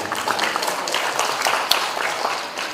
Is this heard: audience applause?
yes